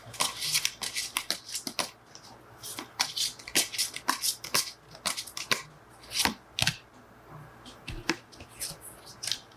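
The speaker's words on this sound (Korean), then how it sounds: "여러분들을 위한 조언 카드 한 장 뽑아보겠습니다" Tarot cards riffle and shuffle in quick, crisp bursts, with sharp flicks and snaps as single cards are drawn and laid down, close and fairly quiet, with no talking.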